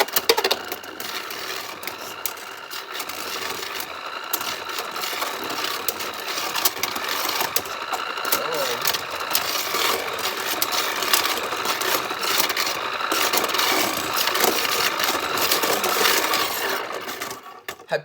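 Beyblade tops spin and clatter in a raised motorized stadium, a continuous whirring buzz with scraping and clicking impacts, close and steady for the whole stretch.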